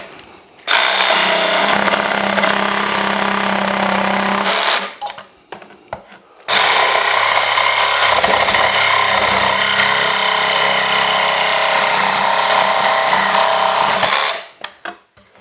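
A power drill whining loudly as it bores into wood for a planter box, in two long continuous runs separated by a short pause.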